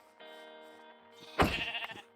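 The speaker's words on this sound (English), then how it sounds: "Apparently that's a very rare sheep." A rare baby brown sheep in the Minecraft video game bleats once, short and fairly close, over a steady background tone from the game.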